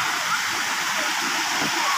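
Clear stream water flowing outdoors, a steady, full rushing wash like a small waterfall, continuous and fairly close throughout with no break.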